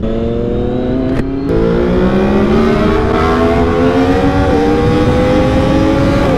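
A 2016 Triumph Daytona 675 R three-cylinder motorcycle revs loud and close, its engine note climbing steadily through a sustained rev after a brief blip, with no speech.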